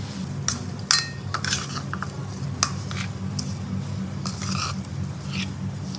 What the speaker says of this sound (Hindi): अब इसे थोड़ा सा मिक्स करेंगे